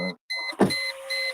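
Car power windows whir up in two short motorized runs separated by a brief gap and a soft thump, steady electric hum close by with no talking.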